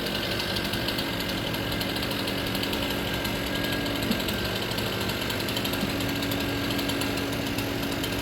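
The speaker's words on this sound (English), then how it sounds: "They got two saws going at the same time." Two chainsaws run at once on a tree hung up on communication lines, a dense, constant engine drone with rough buzzing that stays loud and unbroken throughout, with no voices.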